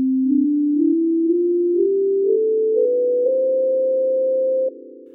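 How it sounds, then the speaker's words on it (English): Pure synthesized sine tones step upward through a melodic scale, each note gliding into the next, steady and clean, with the final tone held before it drops away; no voices. "When you hear a scale or a sequence of melodic steps, you hear a single melodic line moving up or down."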